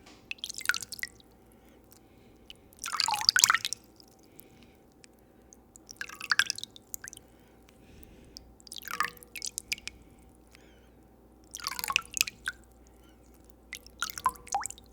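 Water in a bowl used as a sink for face washing drips and splashes in short, close bursts every few seconds, quiet between each, with no talking.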